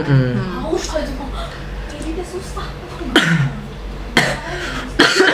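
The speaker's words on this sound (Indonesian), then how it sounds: "Batuk ya." A few sharp coughs break out between stretches of someone talking, each cough short and close, spaced apart over several seconds.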